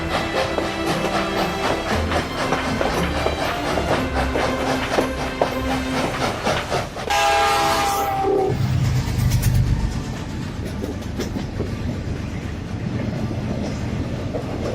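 A long-running Australian passenger train rolling past with steady rumble and clatter, then a loud horn blast at mid-point before the rushing rail noise continues close by.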